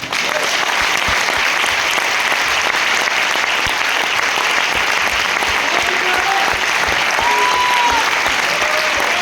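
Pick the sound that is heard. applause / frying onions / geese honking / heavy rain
applause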